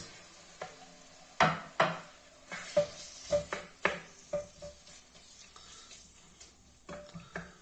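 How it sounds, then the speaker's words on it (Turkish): Liver pieces are tipped into an oiled frying pan, followed by a string of clattering knocks and scrapes of utensil on pan, a dozen or so irregular hits, close and clear. "Diğer yarım kalan ciğerlerimizi de döküyoruz. Tavamızın dibine, tavamıza."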